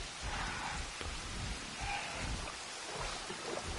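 Rain falling in the dinosaur park game Jurassic World Evolution, a soft, continuous hiss with a low rumbling undertone, fairly faint and steady, with no one talking.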